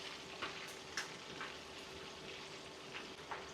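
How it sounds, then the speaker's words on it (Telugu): Chicken pieces fry in hot oil for a chicken pickle, giving a steady soft sizzle with a few faint stirring clicks, fairly quiet and with no talk. "అలా కొంచెం ఎర్రగా వచ్చేటట్టు బాగా వేయించుకోవాలి."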